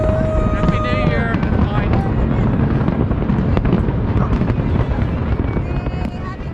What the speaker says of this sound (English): We are in Funchal, Portugal for the New Year celebrations and fireworks